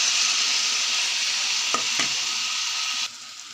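Tomatoes go into a hot pan of cooking curry, giving a steady loud sizzle with a couple of brief stirring clicks and a slight drop in hiss near the end.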